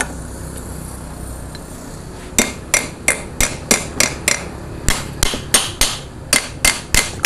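A hammer knocks on the housing of a Panasonic dynamo to loosen it, starting after about two seconds of quiet background and then striking repeatedly at a steady pace, about a dozen sharp, loud metallic blows, with no talking.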